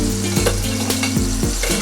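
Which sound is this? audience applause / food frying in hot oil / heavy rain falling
food frying in hot oil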